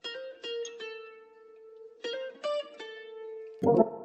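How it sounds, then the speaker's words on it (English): A short guitar sample from an R&B loop kit: a few plucked notes ring out and sustain, a pause, then another cluster of plucks, ending on a brief noisy accent hit; clean, close and fairly quiet. "So we have this guitar"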